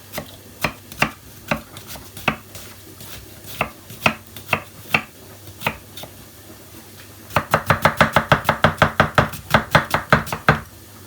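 A knife chops an onion on a cutting board with sharp, close knocks, first spaced and irregular, then a quick run of rapid even chops toward the end.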